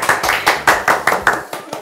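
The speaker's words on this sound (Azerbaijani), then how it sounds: "öz doğmalarımızı bir alqışlayaq" A studio audience at a cooking contest show claps in an uneven, rhythmic run of about eight loud bursts, close and lively, with no voices over it.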